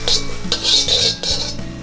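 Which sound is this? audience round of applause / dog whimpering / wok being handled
wok being handled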